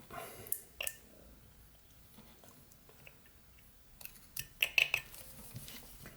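Knife shaving wood while whittling a small football, quiet close scraping cuts in a few short bursts separated by near silence.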